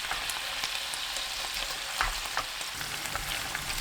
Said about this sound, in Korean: 양념을 골고루 섞고 바글바글 끓입니다